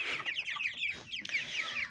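Broiler chickens cluck close by in quick, overlapping bursts, a busy chatter of short, high calls with no pauses.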